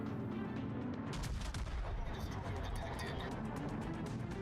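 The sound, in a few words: naval guns firing, from the video game World of Warships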